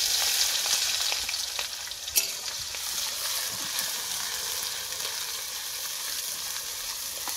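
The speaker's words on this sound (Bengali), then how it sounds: "পেঁয়াজটাকে একটু ভালো করে ভেজে নেবো" Chopped onions sizzle and fry in a pan for chicken maharani, a steady close crackling hiss with a few light stirring knocks, no voices.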